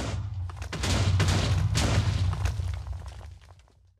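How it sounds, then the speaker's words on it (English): A Minecraft explosion: a loud, sustained blast of rumbling, crackling noise that swells quickly, holds for a few seconds, then fades away, with no talking. "That did a huge explosion."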